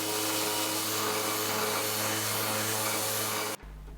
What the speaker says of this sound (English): All the pieces get a sand again at 120 grit.